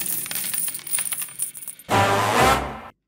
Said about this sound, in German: denn springend klingt die Münze